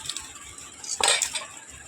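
Metal utensils clink and scrape briefly as fried brinjal is lifted from a pan onto a plate, a short clatter in an otherwise quiet kitchen.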